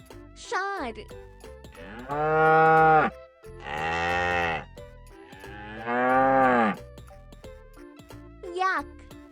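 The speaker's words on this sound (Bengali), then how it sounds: "ষাঁড়," A bull lows three times in long, loud, drawn-out moos with short gaps between them. A voice speaks briefly at the start and again at the end.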